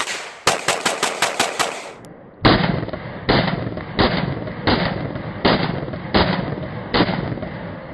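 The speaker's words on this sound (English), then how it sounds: "we're going to pull off a couple rounds. I'm going to shoot a little object at range" Walther PPQ M2 pistol firing 115-grain rounds at a range, a quick string of about eight close, sharp shots followed by a louder series of evenly spaced heavier reports, each with a short ringing tail.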